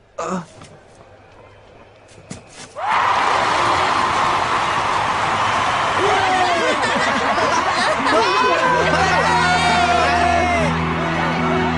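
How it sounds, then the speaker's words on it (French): An anime stadium crowd cheers a football team after a brief quiet moment, a sudden loud roar of voices with whoops and shouts that stays full and sustained to the end. "tu entends, tout le monde nous acclame"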